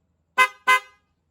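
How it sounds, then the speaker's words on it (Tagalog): Two short, loud blasts from a Yamaha NMAX motorcycle's dual horn, close by, with a brief pause between them, and silence before and after. "yung malakas na busina sa NMAX version 1"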